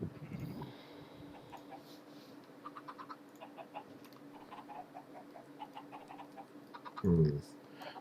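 In the Minecraft video game, a single short sheep bleat rings out clearly near the end, following a quiet stretch of faint ambient game sounds and soft clicks.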